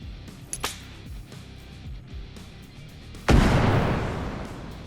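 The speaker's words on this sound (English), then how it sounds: "have added in the F1 fragmentation grenade, the RGD5 fragmentation grenade" A fragmentation grenade goes off in the video game Bellum after a few small clicks, as a single loud, sharp blast followed by a long rumbling decay.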